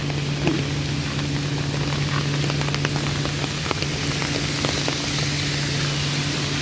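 Rain falling outdoors while someone walks through it, a steady patter of drops with scattered sharper taps on surfaces over a constant low hum, no voices.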